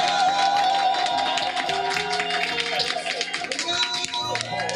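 A church congregation at a morning prayer session claps together to acclaim the Lord, with steady, close, continuous clapping mixed with voices and music throughout.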